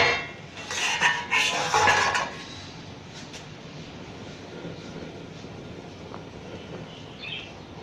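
Chicory mixture boiling hard in a pot on a stove for a herbal arq, a steady rushing roar that runs throughout after a few seconds of metal clattering at the start; no voices.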